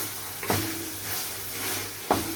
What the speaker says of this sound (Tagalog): Ngayon, mga limang minuto din na paggisa nitong kamatis.